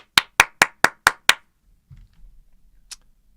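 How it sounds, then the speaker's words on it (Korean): Six sharp, evenly spaced hand claps ring out close and loud in quick rhythm, followed by a faint low rumble and one last lone clap after a pause. "오케이? 박수."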